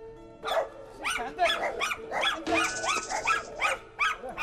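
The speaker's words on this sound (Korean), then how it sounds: "더욱 거세게 짖어대는 이웃 개들." Neighbouring dogs bark fiercely in rapid, repeated bursts, loud and close, with overlapping barks at a steady aggressive rhythm.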